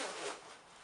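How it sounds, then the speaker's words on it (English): A drysuit's secondary zipper is pulled closed in one quick, faint rasping stroke heard close by, with no talk over it. "and do this secondary zipper"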